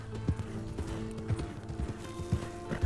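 A horse canters across scenic terrain in the video game Red Dead Redemption 2 Online, its hooves striking in a steady, close clip-clop rhythm over faint ambient game sound.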